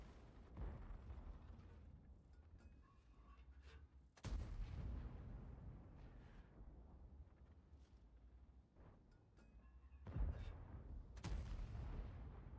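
Tank cannon fire in a tank combat video game: heavy booming shots with low rumbling tails, two big blasts a few seconds apart amid continuous engine-like rumble and distant battle noise.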